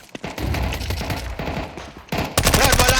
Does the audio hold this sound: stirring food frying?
no